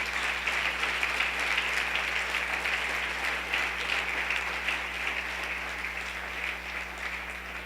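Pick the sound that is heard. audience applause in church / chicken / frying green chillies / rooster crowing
audience applause in church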